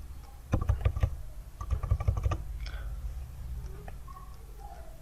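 Computer keyboard keys tapped while entering code for a login form in Microsoft Access, with two quick bursts of clicky keystrokes close up over a low background hum, then quieter scattered sounds.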